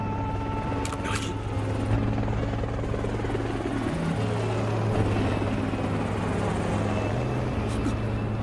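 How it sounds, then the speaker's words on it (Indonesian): An FBI helicopter in an anime scene thrums with a steady, loud rotor drone and engine buzz throughout, close and continuous, while a narrator's voice speaks over it. "Namun tiba-tiba helikopter FBI Amerika muncul secara tiba-tiba mengincar 9 dan 12"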